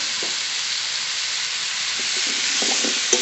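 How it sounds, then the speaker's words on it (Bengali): Spices are lightly sautéed in hot oil in a pan, giving a steady bright hiss with a few faint stirring scrapes near the end. "একটু হালকা করে কষিয়ে নেব"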